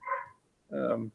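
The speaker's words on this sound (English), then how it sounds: "Oh, never apologize for a barking dog." A dog barks twice in a home setting, a short higher yelp followed by a louder, fuller bark, fairly close with a quiet gap between.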